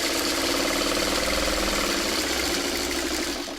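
A sewing machine stitches fabric for a mini quilt project with a plant-leaves design, a steady, loud, continuous motor hum and rapid needle chatter running for several seconds with no voices.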